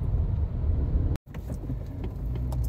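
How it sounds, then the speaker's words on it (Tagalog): Road traffic of jeepneys and tricycles on Barte Road near Almar, a steady low rumble of engines with a brief dropout, then passing vehicles and faint clinks over continuous street noise. "Maraming jeep dito, maraming tricycle."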